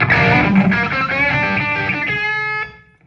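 A heavily distorted electric guitar sustains a bright, buzzing note with rich overtones, ringing loudly before cutting off near the end, played at a guitar masterclass.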